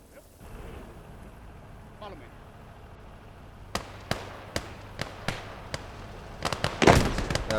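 Gunfire and mortar rounds in the video game Call to Arms: Gates of Hell, a battle on the Finnish front, sharp separate bangs at an uneven pace that grow denser and louder toward the end over a quiet battlefield bed.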